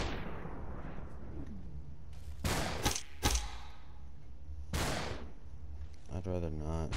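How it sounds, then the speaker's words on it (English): Gunfire in the video game SUPERHOT cracks out in a few sharp, loud bursts separated by quiet stretches, with a low rumbling tail after the first shots. "Why are you shooting at me?"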